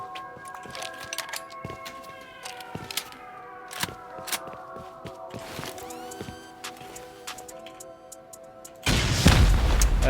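Rocket explosions during a solo raid in a survival video game: a dense run of sharp booming bursts and metallic clatter with ringing tones, ending in a loud sustained blast.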